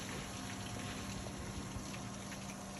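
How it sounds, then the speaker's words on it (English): Pentair pool pump running on backwash, a steady continuous hum with water rushing through the plumbing, constant and unbroken, fairly quiet with no talking. "The pump will kick on and it's going to backwash."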